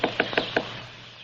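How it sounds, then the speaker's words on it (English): An ivory-billed woodpecker pounding on wood gives four sharp, resonant knocks in two quick pairs, sounding close and clear before trailing into quiet. "Here's its knock, a double knock."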